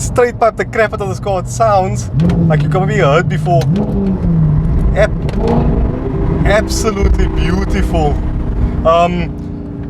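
Straight-piped Audi R8 V8 roars loudly and continuously with rising and falling revs under an excited voice talking over it.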